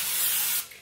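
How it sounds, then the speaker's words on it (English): Pam cooking spray sprayed onto a pan, a steady loud hiss lasting about half a second before cutting off sharply, leaving a faint tail. "So first I'm gonna spray half of the pan with some Pam."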